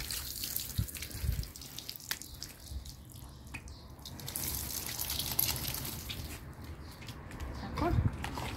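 Water runs and drips steadily while a dog is washed and shampooed indoors, a continuous trickle and splatter with occasional louder splashes, and a voice talks intermittently over it.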